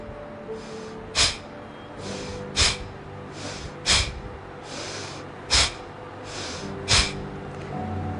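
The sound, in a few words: forceful breath out with a jerk, pulling stomach in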